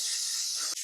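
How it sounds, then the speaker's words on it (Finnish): A steam cleaner hisses steadily while cleaning the gaps around a car's bumper and bonnet seams, a loud close jet that cuts off abruptly near the end. "tässä tosiaan putsataan höyryllä vielä noita umpion rakoja kautta puskurin välejä"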